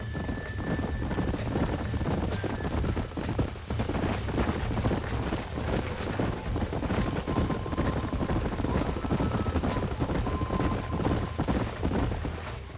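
Steady clopping of several horses' hooves in Red Dead Redemption, a continuous dense patter at even loudness throughout, with a faint tonal ring drifting in and out behind it.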